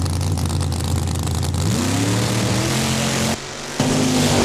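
At Saskatchewan International Raceway, a drag racing car's engine roars loud and close, its pitch rising sharply as it launches, dipping briefly, then surging again in a continuous high-revving blast.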